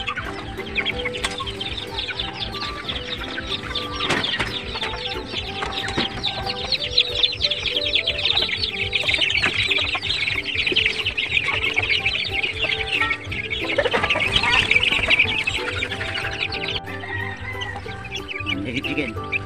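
Backyard Black Australorp and Rhode Island Red chickens cluck steadily and continuously, close by, with some rooster-like calls and chirps over a busy farmyard background and a voice talking now and then.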